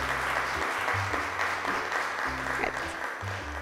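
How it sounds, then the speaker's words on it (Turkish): Audience applause on a Turkish television show, a steady wash of clapping hands from a room full of people, with muffled voices underneath. "Alkışlarla yerine uğurluyoruz."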